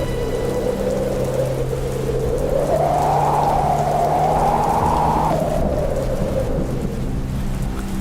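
A loud, steady downpour of heavy rain roars continuously, with a gust swelling the noise in the middle before easing back.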